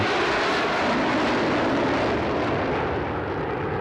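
Simulated SR-71 jet flying at top speed at low altitude: a loud, unbroken, roaring broadband rush that holds steady for the whole stretch, with no voices.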